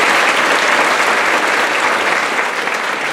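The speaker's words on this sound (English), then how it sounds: "Let's give a round of applause for Melanie" Dense, steady applause from a graduation audience at the 2019 Huxley celebration, loud and close, filling the room without pause for a few seconds.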